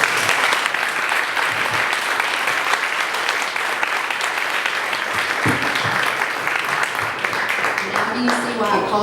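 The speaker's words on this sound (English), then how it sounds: "Can we give these guys a big round of applause?" An audience at a community meeting breaks into loud, sustained applause, dense clapping filling the whole stretch with a few whoops and a voice emerging near the end.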